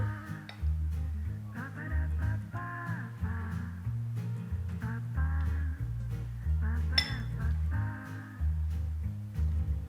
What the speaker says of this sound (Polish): kolejne trudne zadanie, czyli faszerowanie naszych skorupek jajek w taki sposób, aby ich nie uszkodzić